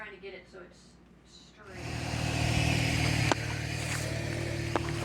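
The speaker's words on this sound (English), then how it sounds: "I have moved the car and reversed it so that the passenger side door is near the sidewalk" A car engine idling and moving, starting after a few seconds of quieter sound with brief talk, then a steady low mechanical hum that continues to the end with a couple of short clicks.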